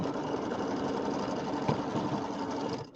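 A sewing machine runs at a steady hum, close and continuous, as it sews down quilt pieces for a pieced birdhouse block, then stops abruptly.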